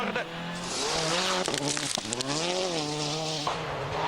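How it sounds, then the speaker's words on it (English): A rally car in WRC Finland skids through a handbrake turn on a gravel junction road, its engine revving in rising and falling tones under continuous commentary, with a scrabbling skid burst around the middle. "he's overshot the junction, got up the escape road, quick handbrake turn"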